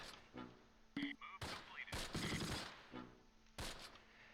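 Bursts of gunfire aimed at a vehicle in the Close Combat WWII strategy game, several sharp, clustered shots and short volleys with gaps between them, fairly close and loud.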